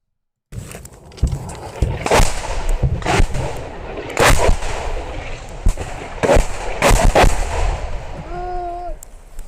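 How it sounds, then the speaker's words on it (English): Ukrainian artillery strikes landing on Russian positions in a combat zone, heard as a series of heavy booming impacts spread irregularly through the stretch, loud and close, with rumbling aftermath between blasts and a brief whistling tone near the end. "it is Russians on the receiving end of Ukrainian artillery here from, like a first-person perspective"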